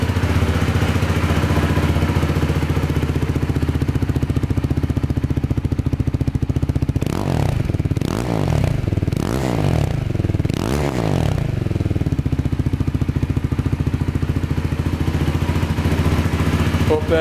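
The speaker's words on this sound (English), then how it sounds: "at least you'll hear what the exhaust sounds like" A Husqvarna Svartpilen 401 / KTM Duke 390 motorcycle with a custom exhaust idles loudly up close, then revs in several quick rising and falling bursts before settling back to a steady idle.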